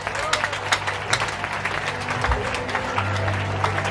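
Church congregation applauding, a diffuse spread of claps from a crowd, steady and moderately loud with a low hum underneath and some voices mixed in.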